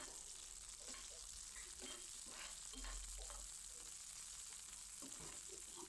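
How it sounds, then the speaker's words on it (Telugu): Onions fried to golden brown with green chillies just added to the pan give a steady, faint sizzle, with occasional stirring scrapes throughout and no one speaking. "పచ్చిమిర్చి వేసాక మంచిగా ఫ్రై చేయండి."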